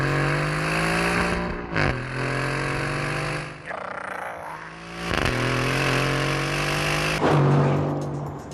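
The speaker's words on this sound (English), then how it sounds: "in an AMG, this engine doesn't make this noise." An Aston Martin Vantage engine revs hard and loud, rising through several climbing pulls with brief breaks between them, each surge ending in a raspy, gravelly snarl.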